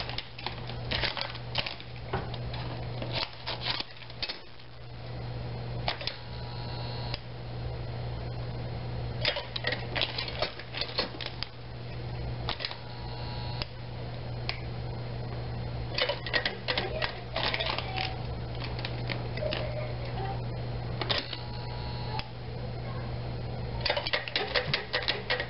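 Scissors cut an oxygen absorber packet into four small pieces: faint, close snips and crinkles come in scattered clusters over a steady low hum.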